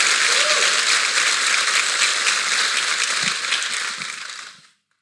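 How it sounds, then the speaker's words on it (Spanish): Warm audience applause greets a guest invited on stage at a talk event, a dense, steady wash of many hands clapping that thins and fades out over the last second. "la recibimos con un caluroso aplauso."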